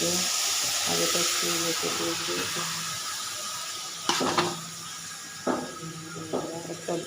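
Eggs sizzle and hiss steadily in a frying pan, a continuous bright crackle with a few louder clinks and spatters toward the end, while a voice talks faintly underneath.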